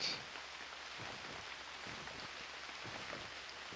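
Soft, steady rainfall in the survival game UnReal World, a faint even hiss of drops with occasional light patters, alone and continuous.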